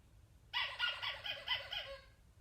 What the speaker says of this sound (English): Or a squeaky ball it sounds like, but it's a rubber duck.